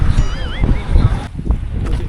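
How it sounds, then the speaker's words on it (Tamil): Strong cold wind gusts into the microphone outdoors on a misty mountain road, a loud rumbling buffet that swells and dips, with a voice talking over it. "காற்று அடிக்குதுங்க குளிர் காற்று சும்மா வேறு லெவலில் இருக்குது"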